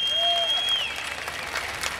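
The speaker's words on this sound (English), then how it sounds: "How about a round of applause for them" Audience applause at an evening blues concert, a steady wash of clapping from the crowd with a sustained tone from the stage ringing over the first part.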